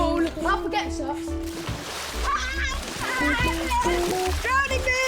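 Water splashes and sloshes into a paddling pool being filled, in repeated bursts mixed with excited children's voices and adult talk nearby.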